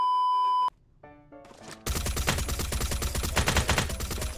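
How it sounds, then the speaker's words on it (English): Gunfire from the video game Badlanders opens after a brief electronic beep and some soft thumps, then becomes a loud, sustained burst of rapid automatic shots that continues to the end. "What the heck am I shooting at?"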